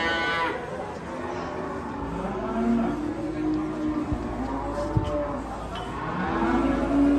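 Agitated cattle mooing repeatedly, long low bellows from several animals overlapping at close range, with people talking among them and occasional thumps.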